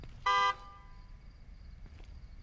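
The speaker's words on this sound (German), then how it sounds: "Ich will doch nur hupen." A single short car horn honk in the horror game The Evil Within 2, about a quarter second long and fairly loud, followed by quiet game ambience.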